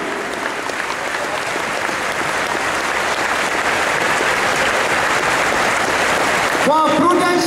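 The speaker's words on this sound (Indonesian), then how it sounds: "please rise bangkit, mari and give a thunderous applause to Pak Rinaldi and his team." A large audience gives thunderous applause for Pak Rinaldi and his team, steady dense clapping filling the room throughout, with a voice breaking in over it near the end.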